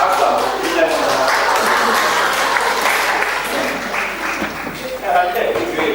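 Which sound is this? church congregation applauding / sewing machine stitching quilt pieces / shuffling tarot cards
church congregation applauding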